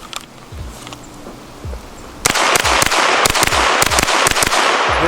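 Unsuppressed gunshots from a SIG MPX with an 8-inch barrel: a rapid string of loud, sharp cracks after a quiet start, fired in quick succession and close by.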